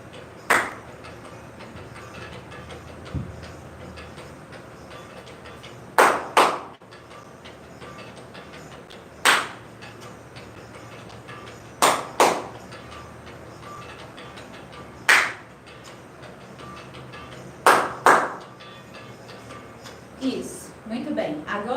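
Sharp single and double hand claps at intervals, cueing walkers in an exercise class to stop or keep going, loud and close over a quiet room with a voice giving instructions.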